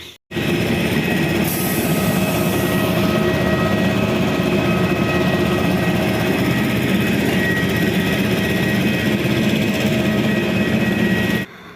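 Loud, steady roar of a nearby Airbus jet on an airport tarmac with gusty wind noise, continuing unbroken for about eleven seconds before cutting off.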